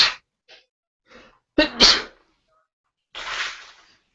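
A single loud sneeze bursts out near the microphone, preceded by a few quick breaths and followed by a breathy exhale in otherwise quiet surroundings.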